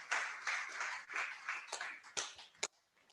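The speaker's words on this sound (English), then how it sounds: "A round of applause, ladies and gentlemen." At a university media event, an audience gives a round of scattered, fairly quiet applause that thins out into a few separate claps.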